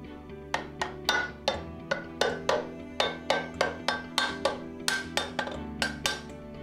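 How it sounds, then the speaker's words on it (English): Rubber mallet tapping a metal birotor end plate into place, about twenty evenly spaced sharp knocks with short ringing decay, close and loud, steady low hum underneath. "Tap it into place with the rubber mallet."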